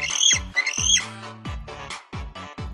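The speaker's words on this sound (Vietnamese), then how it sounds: "Chim cánh cụt." A penguin call, loud harsh squawking notes repeated in short bursts, close and dry, with braying, stepped tones and no talk.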